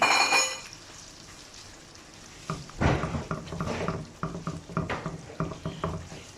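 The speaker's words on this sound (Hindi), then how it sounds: "अंडों को हम मसाले में थोड़ा सा भूनेंगे" Beaten eggs frying in spiced masala in a pan, a soft sizzle broken by a spatula scraping and stirring in irregular knocks and scrapes, close and moderately loud.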